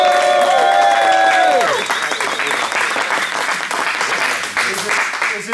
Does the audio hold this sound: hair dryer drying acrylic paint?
no